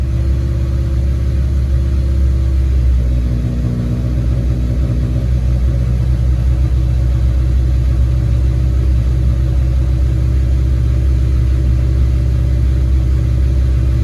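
An Audi A5 engine with a funky mass airflow sensor rumbles close by, given light throttle and held below 2,000 RPM, so the low drone swells gently in mild revs without any sharp roar.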